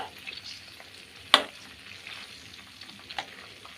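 Chicken frying in a pan on a rainy day gives a soft, steady sizzle throughout, with a single sharp clatter near the middle and a smaller knock toward the end.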